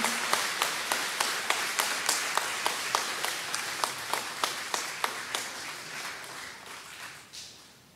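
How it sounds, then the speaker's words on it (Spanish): At an Easter Vigil trilingual Mass, the congregation applauds the newly baptized with rhythmic, evenly spaced unison clapping that holds a steady beat before loosening and fading out. "Ahora es mandar a ellos un aplauso a los bautizados."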